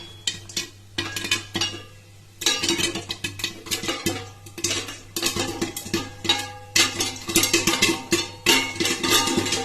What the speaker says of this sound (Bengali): এই যে ফাটতে শুরু করে দিয়েছে, তখন একটা চাপা দিয়ে দিতে হবে।